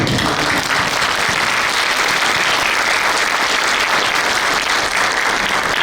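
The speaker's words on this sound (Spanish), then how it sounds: "un fuerte aplauso para ella" An audience in a hall gives a loud, sustained round of applause for a pair of schoolteachers, dense clapping holding steady and close from start to finish with no pauses.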